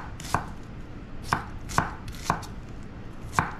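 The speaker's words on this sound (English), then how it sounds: "you just cut it and you slice it the rest of the way" A knife slices through an onion on a cutting board, five sharp, evenly spaced chops with quiet pauses between them, close and clear with no speech.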